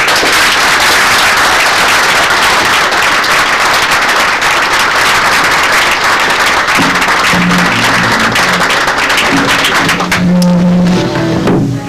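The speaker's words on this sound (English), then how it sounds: "he deserves a big round of applause" Applause at an awards ceremony for the 1997 NATS model aircraft nationals, sustained loud clapping from a large crowd that carries on for about seven seconds, then continues more thinly under a voice and a low tonal hum.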